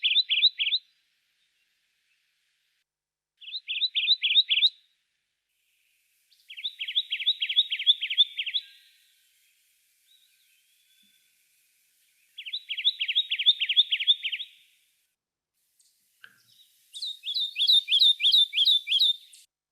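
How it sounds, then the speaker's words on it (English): Repeated high, rapid trilled songs of a ground-dwelling warbler of low brush and woodland floor, five separate bursts of a few seconds each with quiet gaps between, clear and fairly close with no other sounds. "low brush and ground dwelling type warblers, where you normally see them very, very low in the canopy"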